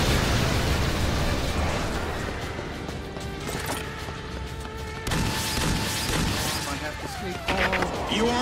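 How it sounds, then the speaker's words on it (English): Machine gun fire in the video game Earth Defense Force 5, rapid sustained bursts mixed with explosions and clanking mechanisms, loud and continuous across the clip while voices talk over the battle. "Machine gun fire!"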